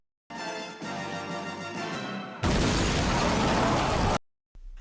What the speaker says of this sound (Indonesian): Sebuah mobil menerobos tembok ruangan tersebut